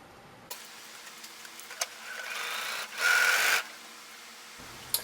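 A sewing machine stitches bias tape onto the seams of a dress lining in a few short bursts, with a faint whir that builds to a louder, steadier run near the end before stopping.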